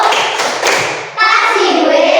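Children in a fifth-grade classroom clap and slap along to the 'tepuk wow' clapping chant, with a loud, dense burst of hand claps and thumps that dips briefly midway and then surges back.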